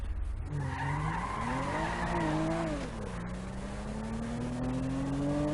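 A modified cartoon car, Lightning McQueen being test-driven, skids and screeches with rising, falling engine revs, then accelerates hard in second gear with a steady high whine, loud and close throughout.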